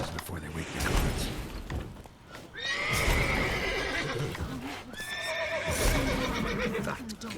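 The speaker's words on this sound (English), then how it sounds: "Gotta calm all the horses before they wake the guards." Several horses whinny and neigh in Witcher 3: The Wild Hunt, loud and close. Long rising calls come in bursts over hoof clip-clop and game ambience.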